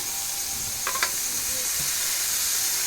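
Vegetables sizzle steadily as they fry for veg chow mein, with a couple of brief scraping stirs of a spatula partway through, close and continuous with no talking.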